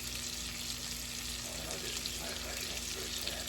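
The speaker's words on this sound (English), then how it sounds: "Got our onions in the skillet. Going to add our garlic." Onions and garlic frying in a skillet for a pork and sauerkraut dish, a quiet, continuous sizzle with a low hum underneath and faint stirring, no voices over it.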